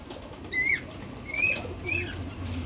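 A pigeon for sale at a pigeon dealer's shop flaps its wings in a few brief bursts, close by, mixed with short bright bird calls over a low murmur of background noise.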